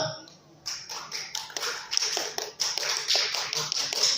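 Scout-style rhythmic hand clapping from a workshop audience, a dense patter of quick claps in a patterned beat that fills the room and builds steadily louder.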